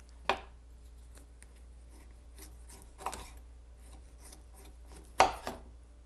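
A knife slices bacon very thin on a board, three distinct cutting strokes spaced a couple of seconds apart with faint rubbing between them, close and fairly quiet.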